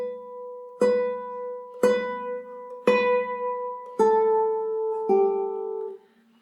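A classical nylon-string guitar melody played entirely with rest strokes, giving about six firm, slightly fuller plucked notes that sustain and fade one after another, with no voices.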